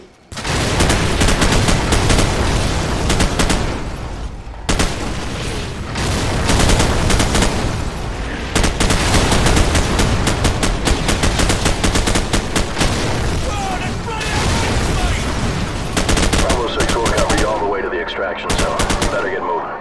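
Danger-close fire mission in Call of Duty Modern Warfare striking enemy armor and infantry about 100 meters away, a loud unbroken barrage of heavy booms and rapid gunfire that fills the whole stretch and fades briefly twice.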